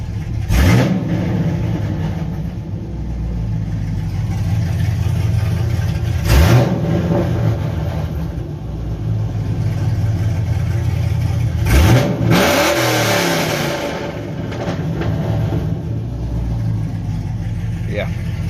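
A fifth-generation Camaro 2SS with an LS3 V8 revs up to about 4,500 RPM three times over a steady, loud idle, each rev climbing sharply and then falling back.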